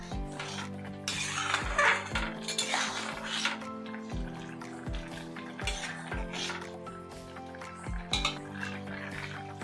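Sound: stirring egg tadka in a pan

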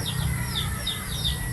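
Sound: chickens clucking

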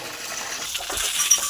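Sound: water being poured for cows to drink

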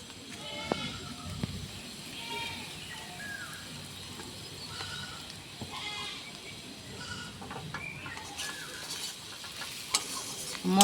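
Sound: spices (red chili, turmeric powder) frying for fish curry

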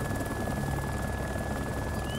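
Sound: helicopter engine in video game DayZ

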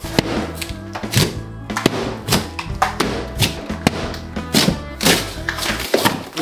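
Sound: hammer striking chocolate

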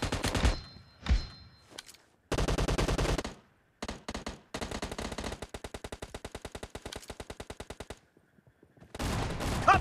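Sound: gunfire from the video game PUBG Mobile

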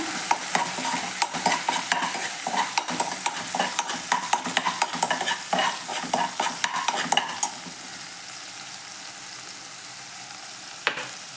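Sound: butter melting and sizzling in a pan

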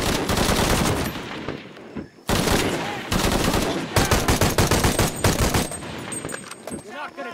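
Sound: gunfire in video game Shadow of the Tomb Raider

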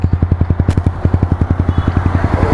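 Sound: motorcycle engine with Akrapovic exhaust

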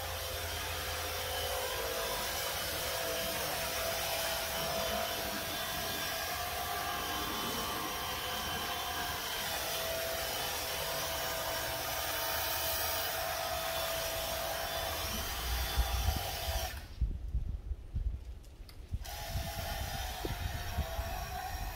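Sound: DEWALT DCPW550 power cleaner spraying during pre-rinse

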